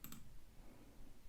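A few faint, sharp clicks from a computer mouse or keys, two close together at the start and one near the end, quiet and isolated against a soft room hiss.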